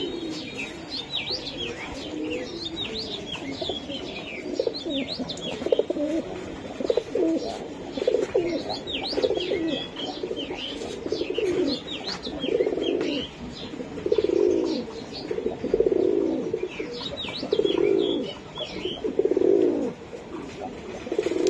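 Racing giribaz pigeons coo in repeated low rolling phrases, growing louder toward the end, with higher chirps from other birds scattered above and faint voices in the background.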